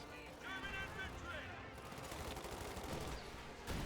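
Sustained gunfire from a Company of Heroes 2 battle pounding a church held by Fallschirmjäger troops, a dense, continuous rattle of shots and impacts filling the whole stretch at steady loudness, with game voices and a commentator's voice faintly mixed in.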